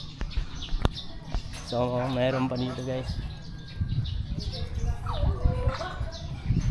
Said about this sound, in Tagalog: kung naririnig nyo yung huni ng ibon